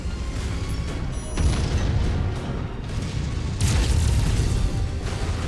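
Heavy explosions in MechWarrior 5: Mercenaries, a reactor blowing up during battle, with deep sustained rumbling booms that swell around the middle and again near the end, loud and dense throughout.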